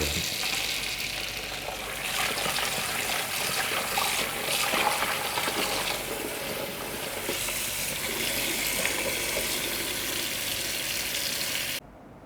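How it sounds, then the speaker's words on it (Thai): Pears and apples get a second rinse in plain water after a baking-powder soak, a steady broad rush of running water and splashing that holds for about twelve seconds, then cuts off abruptly. "หลังจาก 20 นาที เราก็มาล้างน้ำเปล่าอีกสักรอบนึงครับ"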